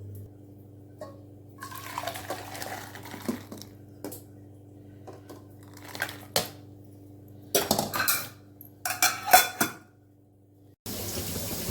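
Cooked rasam is moved from the pot into another vessel with scattered metal clinks, scrapes and wet sloshes of pouring, separated by quiet gaps. No voices are heard.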